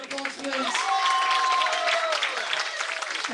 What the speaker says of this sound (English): Thank you very much for the musicians. Can you give a round of applause